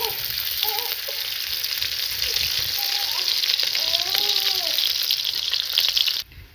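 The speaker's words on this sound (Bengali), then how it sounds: "কড়াইয়ের মধ্যে দিয়ে দিয়েছি পেঁয়াজ। এবার দিয়ে দেবো সরষের তেল।" Onions sizzle and fry in mustard oil in a wok, a steady loud crackling hiss with faint clinks and scraping, continuing alone until it drops away abruptly near the end.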